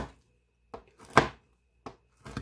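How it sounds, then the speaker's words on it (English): A knife chops oven-baked bacon into small pieces on a board, a few separate dull thunks spaced apart, close and quiet with no talk. "So right now I'm just going to cut up all the bacon."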